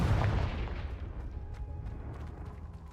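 The Confringo spell explodes in a Harry Potter video game with a loud, close boom that rumbles and slowly fades into crackling debris.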